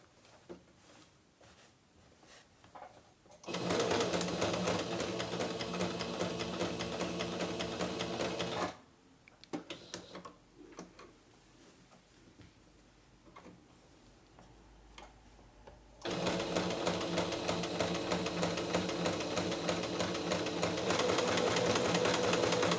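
A sewing machine stitches a curved decorative hem on a dish towel, its fast rhythmic ticking running loud and close in two long bursts, with a quiet pause in between as the needle is lowered and the fabric is turned.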